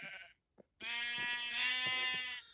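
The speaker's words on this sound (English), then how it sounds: "psychedelic sheep." Sheep in a video game give a drawn-out bleat after a brief quiet gap, a loud, wavering, harmonic-rich call sustained for well over a second, heard alone.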